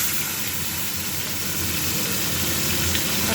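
Fish frying in hot oil in a kadai, a steady loud sizzling hiss that continues without a break.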